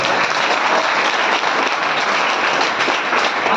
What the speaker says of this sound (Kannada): ಕಾಲೇಜಿಗೆ ಜೋರಾದ ಚಪ್ಪಾಳೆ ಕೊಡಬೇಕು